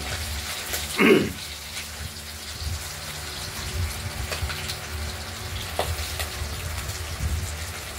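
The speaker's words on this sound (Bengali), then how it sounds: "বড়াগুলো এভাবে এপিট ওপিট করে ভেজে নিতে হবে, না ভাজলে তো হবে না, একটু লাল হবে" Fritters of catla fish oil and flour fry in hot oil, a soft continuous bubbling sizzle close by with occasional stirring clinks and a brief louder splash of movement early on, no speech.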